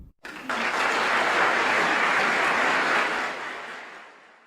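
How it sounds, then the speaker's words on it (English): A ceremony audience at a safety awards presentation breaks into full, sustained applause for commendation recipients, swelling quickly, holding steady and then fading out near the end. "Please join me in a round of applause for all commendation recipients."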